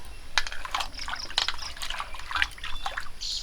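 Vegetables being rinsed by hand in water for a Bengali rohu fish and taro recipe, with close splashing, dripping and trickling in irregular bursts, no talk.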